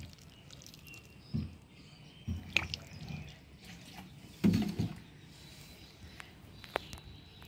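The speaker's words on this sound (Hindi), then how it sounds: "पानी डाल देंगे" Water poured onto a potted chrysanthemum plant, heard as a few faint, brief splashing bursts over a quiet background with insect-like chirps.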